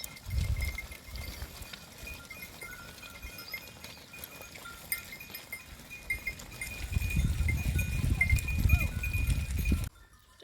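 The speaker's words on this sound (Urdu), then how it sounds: "بھیڑ بکریوں کا ریوڑ دیکھا" A herd of sheep and goats gathers beside a river at Baghaow, with scattered bleats and shuffling hooves over steady outdoor ambience, livelier and closer toward the end.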